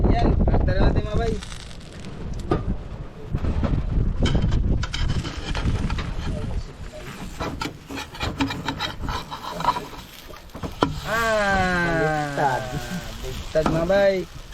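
Wind blows outdoors and buffets the microphone with a rough, rumbling rush that swells and fades, along with rubbing and handling noises while people talk nearby.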